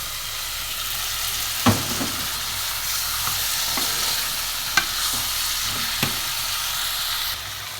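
Tomatoes fry and sizzle steadily in a pan, with a few sharp clinks and scrapes from stirring scattered through the constant hiss; close and fairly loud, no voices.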